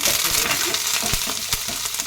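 Urad dal, green chillies and curry leaves sizzle in hot oil for a tempering, a loud close crackle with a few quick clicks and pops from stirring.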